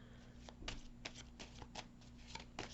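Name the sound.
shuffling tarot cards to draw one more card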